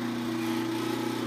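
A drill press bores into wood to make intake holes for a carpenter bee trap, giving a steady, loud mechanical whir that holds level throughout without pauses.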